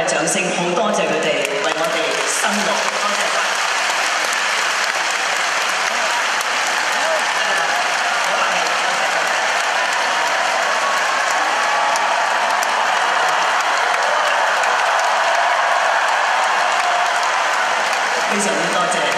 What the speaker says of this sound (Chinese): 所以我哋亦都借大家嘅掌声，好多谢佢哋